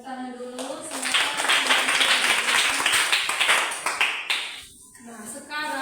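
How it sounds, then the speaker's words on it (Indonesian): Classroom applause during a group presentation session, a dense burst of clapping from many hands lasting several seconds, then fading as a voice speaks near the end. "Tepuk tangan dulu."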